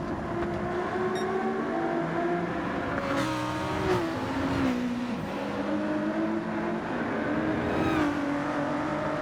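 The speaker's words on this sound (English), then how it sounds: "Pickle now in the GR Supra, looking to try and get onto the back of the Ford GT of Mawson ahead" GR Supra and Ford GT race cars in a racing video game, with engine notes rising and falling through gear changes, steady, fairly quiet and without voices.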